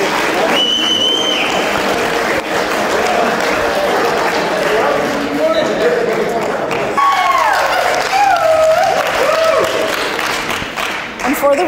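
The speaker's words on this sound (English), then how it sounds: "Big round of applause for the parents of our groom" Wedding guests break into applause and clapping for the groom's parents at the reception, a steady burst of crowd noise mixed with voices and some music-like tones in the room.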